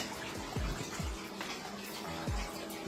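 Water pours into a filling system and flows down into an anole and salamander tank, a steady trickling splash with a few low gurgling drops, close and moderately loud.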